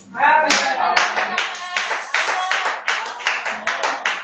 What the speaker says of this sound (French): vous avez applaudi, non?